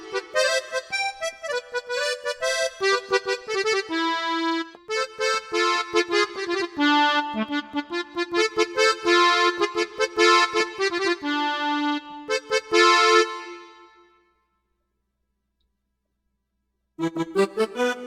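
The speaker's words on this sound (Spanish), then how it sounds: "Y suena así. Es un acordeón Hohner real." A real Hohner accordion sample plays a bright, reedy melody in a Cusco huayno style, loud and continuous for about thirteen seconds, then silence, and a fresh chord enters near the end.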